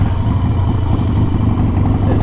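Harley-Davidson Roadster with the Evo engine, which entered production in 1987, running with a loud, low, steady rumble throughout a short stretch.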